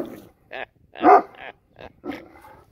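A dog barks in short bursts and growls, loud and close, with brief pauses between the outbursts.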